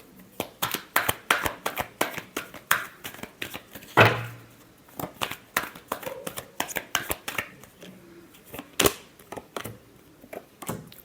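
Tarot cards being shuffled and drawn for a love reading, heard as a close run of crisp, papery riffles and slaps in uneven bursts, with one sharper snap near the middle and no talking.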